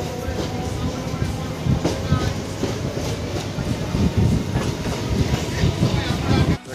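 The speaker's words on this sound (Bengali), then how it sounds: "তো বগুলা থেকে বেরিয়ে যাচ্ছে ট্রেন।" A train runs on after leaving Bagula station: steady close rumble with rhythmic clickety-clack of wheels over rail joints, loud and continuous from inside a nearly empty carriage, with no talk.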